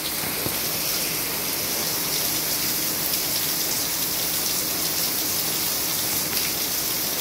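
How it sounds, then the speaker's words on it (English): Heavy rain pours steadily with a dense, hissing roar, constant and close, with no voices. "the rain is so loud"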